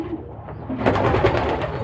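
Pigeons coo in a soft, rolling rhythm close by, the calls repeating steadily and growing fuller partway through.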